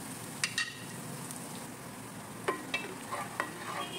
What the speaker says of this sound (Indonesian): Oke, kita oseng-oseng.